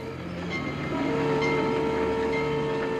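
A train runs on rails in a TV horror anthology scene, with a steady rumbling ride and a sustained horn tone held over the whole stretch, loud and continuous.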